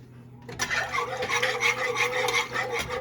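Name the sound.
stirring milk into roux in a pot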